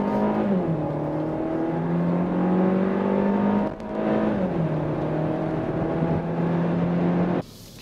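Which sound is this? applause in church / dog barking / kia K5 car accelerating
kia K5 car accelerating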